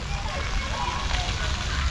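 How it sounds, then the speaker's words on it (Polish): Steady splashing and rushing water from a park fountain in Grodzisk Mazowiecki, a continuous wash of sound at moderate level. "Fontanna."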